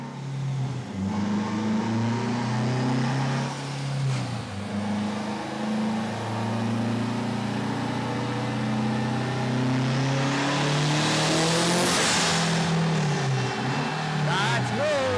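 A turbocharged 8th-generation Honda Civic engine revs hard on a dyno, a loud, close drone climbing and holding in long pulls with brief dips, then surging to a harsh peak before easing off.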